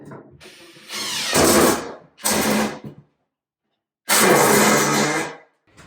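A power drill backs a screw out of very dry, hard 2x6 lumber during a drywall patch job: three loud, close whirring bursts, the last the longest, separated by short silent pauses.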